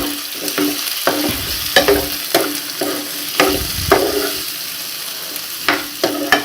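Boiled mushrooms are stirred into onion and ginger-garlic paste frying in a pan, with repeated loud spoon scrapes and clanks over a constant close sizzle, no voices.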